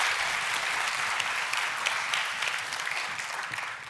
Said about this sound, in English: So just another round of applause for an incredible young person.